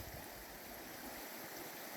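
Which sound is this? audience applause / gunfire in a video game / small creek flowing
small creek flowing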